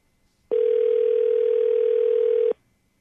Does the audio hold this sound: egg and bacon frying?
no